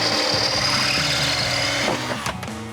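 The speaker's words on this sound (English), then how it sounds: "there's now another layer of rivets that I'm going to have to drill, and then hopefully it'll peel away" A power drill bores out rivets, a continuous loud whining grind close up that shifts pitch near the end as the bit breaks through, with no talk over it.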